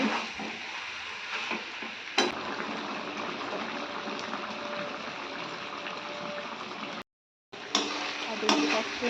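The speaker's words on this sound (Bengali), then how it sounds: "পটলটা এর সাথে একটু ভালোভাবে নেড়ে নেবো" Potato and pointed gourd curry being stirred in a pan, a steady close sizzle with scraping strokes running throughout, broken by a brief silent gap near the end before the stirring resumes.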